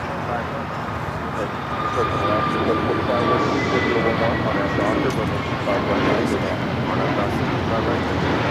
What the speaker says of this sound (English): This is American Airlines 1659 taking off to Dallas Fort Worth on the A321neo.